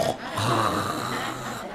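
A voice mimics heavy snoring in one long, rasping, growly breath that holds steady for nearly two seconds, loud and close.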